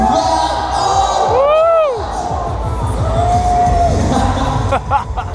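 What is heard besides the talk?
crowd cheering at a cycle show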